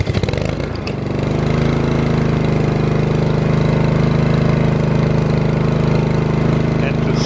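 A Honda lawn mower engine starts and settles into a loud, steady running drone with a low rumbling tone, heard up close without a break.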